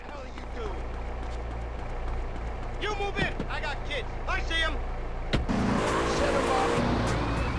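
A car in GTA San Andreas revving and pulling away under a steady engine drone, with chirping tyre squeals and a sudden louder burst of engine noise near the end, while a voice talks over it.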